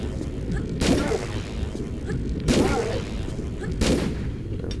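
Gunfire in the video game Tomb Raider III: three loud shots, each with a short ringing tail, spaced a bit over a second apart, over a steady low rumble of game ambience.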